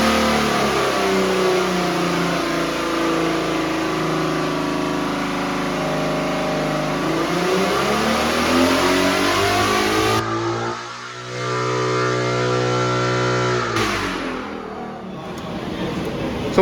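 A 2016 Ferrari V12 engine fitted in a 1968 Ferrari P4 replica revs hard on a dyno during an air-fuel ratio sweep, a loud sustained howl that rises and falls, drops briefly, then climbs through several more pulls.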